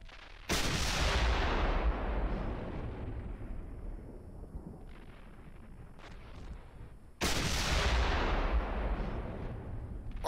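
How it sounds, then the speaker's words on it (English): Two heavy booming tank cannon shots in the Steel Beasts video game, each a loud sudden blast followed by a long rumbling decay, spaced several seconds apart. "What are you shooting at?"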